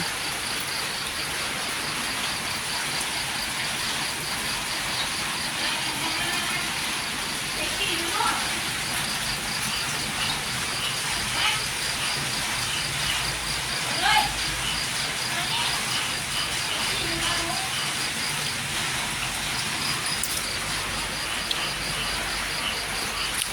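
Steady rain falls through the night and into the morning in a rural elephant village, a continuous soft hiss with scattered drips and faint insect chirping beneath it.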